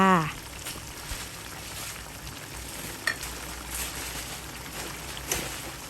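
Cha-om leaves wilting in a simmering pot of coconut-milk snakeskin gourami soup with pickled bamboo shoots, giving a steady close bubbling hiss with a few soft clinks and knocks.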